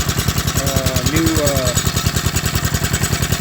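A 1960 Tote Gote small engine runs with a rebuilt carburetor, a loud, close, steady rapid putter at even idle, with a brief voice heard over it early on.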